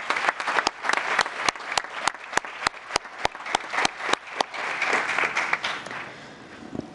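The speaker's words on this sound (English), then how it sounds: "May we hear a round of applause for our Scouts tonight." Audience applause for Scouts at a town council meeting, with distinct sharp claps cutting through a steady patter of many hands that thins out toward the end, no voices over it.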